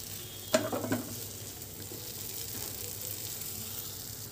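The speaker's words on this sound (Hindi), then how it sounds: "अब हम फिर से इसमें डालेंगे 1 चम्मच घी और इसे हम अच्छी तरीके से मिक्स कर लेते हैं" Halwa cooking in ghee, with a soft continuous sizzle and a few quick scraping stirs of a spoon near the start, close and fairly quiet, no one speaking.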